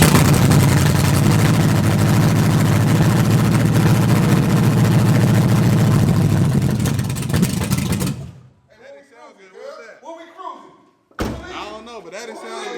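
A wagon's engine fires up for the first time after a new oil pump install, running as a loud, steady, rough roar for about eight seconds before cutting out abruptly, after which people talk in the quiet.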